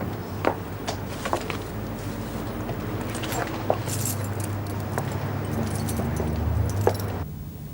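A bunch of duplicate keys jangles in bursts of bright metallic clinks over a low steady background hum, with a few sharper knocks.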